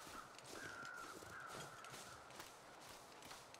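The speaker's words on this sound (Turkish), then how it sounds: "Karga seslerine bayılıyorum ya." Crows caw in the frozen wilderness of the video game The Long Dark, a few faint drawn-out calls over a constant windy ambience with soft footsteps crunching along.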